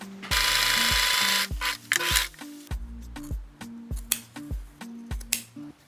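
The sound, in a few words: sewing along a line on a bag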